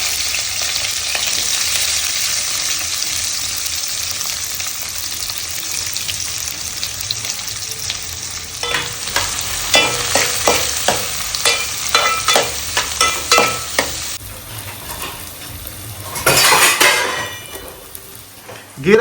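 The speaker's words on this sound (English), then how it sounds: "Now on the very same pan. Adding our onions." Onions hit a hot pan that was just used for frying potatoes. A loud, dense sizzle is broken midway by a run of rapid scraping and stirring strokes, then a brief louder surge near the end. No one speaks.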